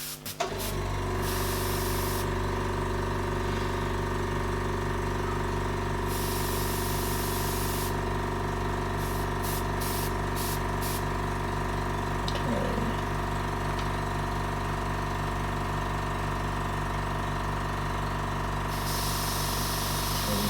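Airbrush spraying a fine paint mist while darkening areas of a pet portrait, a steady continuous hiss with an underlying compressor hum running throughout, close and even in level.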